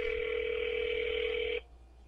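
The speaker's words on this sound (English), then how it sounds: "at least this time it's ringing." A telephone call signal tone, steady and continuous, plays alone for about a second and a half and then cuts off, leaving faint room noise.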